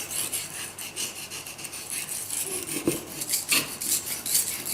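A knife blade scrapes across a wet Pyrenees whetstone in repeated rasping strokes, close and fairly loud, with an uneven rhythm of gritty rubs.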